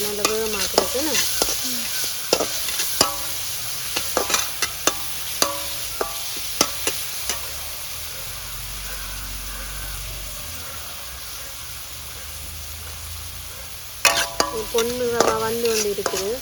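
Vegetables frying in a pan for egg kothu parotta, a soft steady sizzle broken by bursts of spatula scrapes and clinks against the pan, quieter in the middle stretch, then busy stirring again.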